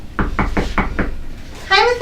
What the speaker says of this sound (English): What do I knock on?